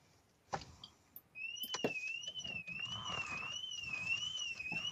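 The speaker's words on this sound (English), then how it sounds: "Oh, we have an alarm going off." A car alarm sounds close by, a loud warbling two-tone siren that starts about a second and a half in and keeps cycling steadily after a couple of sharp knocks.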